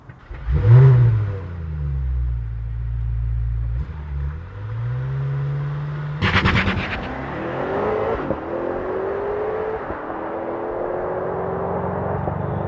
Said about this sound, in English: let's look at how hard this car launches from the outside,